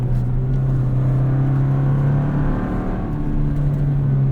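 A 2024 Toyota Tacoma with a six-speed manual pulls in third gear at full throttle from about 2,500 rpm, a steady droning engine note with a low hum heard from inside the cab, loud and continuous.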